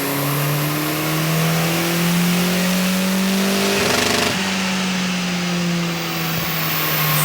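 A turbocharged Honda Civic engine revs at full throttle, a loud steady drone whose pitch climbs repeatedly through the gears, with a brief roughness midway.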